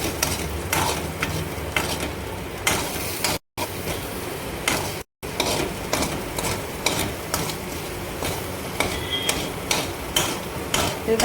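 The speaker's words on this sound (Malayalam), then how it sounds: "ഇനി ചിക്കി കൊടുക്കാം." Salted beaten egg is scrambled with a spoon in a pan: a faint sizzle runs under quick, rhythmic scraping and clicking strokes. The sound is close and steady, with two brief silent cuts and no talk.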